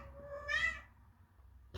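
A domestic cat gives one short, faint meow in a quiet room, ending with a brief soft noise.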